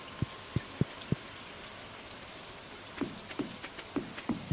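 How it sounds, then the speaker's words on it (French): Steady rain falls in the Stardew Valley farming video game, a continuous soft hiss with scattered louder droplet ticks and a brightening wash of rain noise partway through, with no voices. "Il pleut aujourd'hui."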